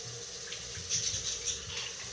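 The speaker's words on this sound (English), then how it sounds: "So I'm going to rinse my hands" Tap water runs steadily into a kitchen sink as hands are rinsed, a continuous close splashing hiss with no talking.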